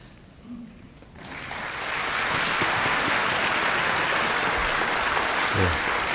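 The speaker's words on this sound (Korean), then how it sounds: "박수로 격려해 주시고" Church conference audience breaking into applause after a quiet start, the clapping rising at about one second into a dense, sustained wash that holds steady to the end.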